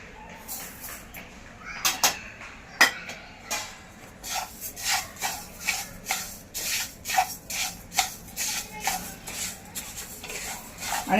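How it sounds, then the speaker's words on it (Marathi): Coriander seeds dry roasting in a pan over a gas flame for a traditional Malvani masala, with repeated rhythmic scraping strokes of stirring about every half second, close and moderately loud. "पहिल्यांदा आपण धणे भाजून घेऊया सगळे"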